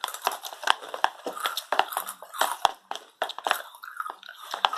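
Close, wet munching and chewing with rapid crunchy bites in an irregular rhythm, loud and continuous, set during shaving-cream slime play with no talk over it.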